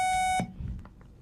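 A quiz contest buzzer at a primary school competition gives one loud sustained electronic tone for under half a second, then cuts off into quiet room noise.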